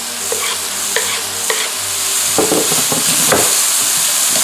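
Garlic chips go into a hot stir-fry pan and start sizzling, with a few sharp clanks of a utensil on metal at first, then a fuller crackling fry with scraping stirs, close and without talk.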